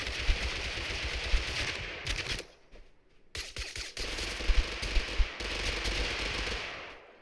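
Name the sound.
grenade launcher and missile fire in video game TABG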